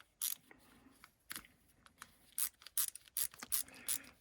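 A hand ratcheting tool clicks and snaps close by in irregular bursts of sharp, crisp strokes with quiet gaps between, and no one speaks.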